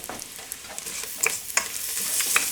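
Diced onion frying in a pan while being stirred, a close, steady sizzle broken by a few sharp scrapes and clinks from the spoon, with no talking.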